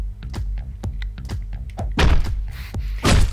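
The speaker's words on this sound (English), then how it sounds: "I love throwing the gun at him, it's quite funny." Thrown gun striking an enemy in the Hotline Miami video game, a series of sharp thunks and thuds in quick irregular succession, with two heavier impacts toward the end.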